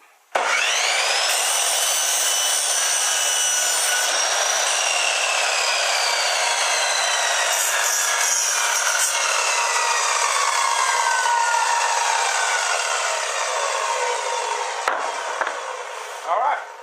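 A hand saw cuts steadily through wood, each long rasping stroke loud and close, continuing almost without pause for about fifteen seconds before stopping.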